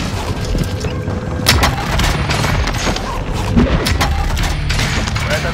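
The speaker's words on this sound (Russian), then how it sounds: "Они наносят точечный авиаудар." Precision airstrike explosions in Call of Duty Warzone Pacific, a run of heavy booms and crashing impacts that hit in irregular succession over a steady battle rumble, close and loud, with no clear talking.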